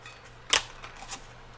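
A handheld paper punch cuts through journal paper with a single sharp snap, followed by a faint second click, close and brief in a quiet room.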